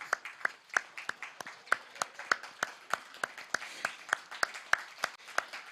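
Scattered audience clapping at a philanthropy forum in India, a steady run of sharp, distinct claps from a modest crowd that keeps going without fading and carries no talk over it.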